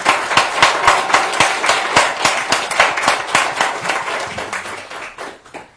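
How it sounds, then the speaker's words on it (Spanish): A modest audience at an academic panel on water research gives a round of applause, individual claps distinct and fairly brisk, fading out toward the end. "Un aplauso."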